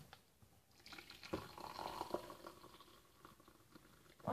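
Hot elderberry drink is poured into a cup, a faint liquid splash and gurgle that swells in the middle and trails off, with soft clatter at the end.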